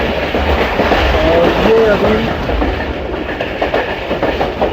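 The Pakistan Express 46 Down passenger train on its Rawalpindi to Abdul Hakim run rolls past Siyala station with a continuous loud rumble and rhythmic wheel clatter, while someone talks over it.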